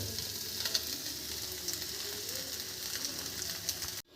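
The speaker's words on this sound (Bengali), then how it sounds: "ডিমটাও ভেজে নিই" Eggs frying in oil in a pan for egg chicken chow mein, with a steady, close crackling sizzle and faint occasional pops, ending abruptly.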